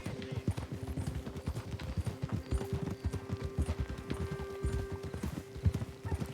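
A ridden horse clip-clops along at a steady walk, hooves striking in a close, regular rhythm throughout, with a constant tonal hum behind it.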